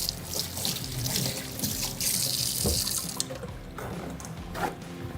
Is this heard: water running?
yes